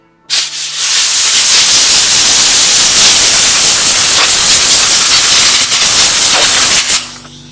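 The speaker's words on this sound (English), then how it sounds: "compressed air, and then we're gonna splash it with some contact cleaner" Compressed air or contact cleaner sprayed onto the circuit board of a Line 6 DL4 effects pedal, a loud, close, continuous hiss lasting several seconds, rising abruptly and cutting off at the end, with no speech.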